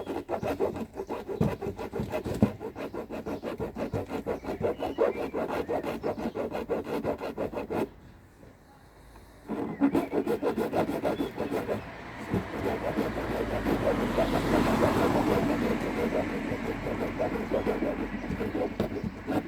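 A tool rasps and saws through the plastic of a BMW F30 M rear bumper in long, steady, gritty strokes, close by, with a brief pause partway through and no talking.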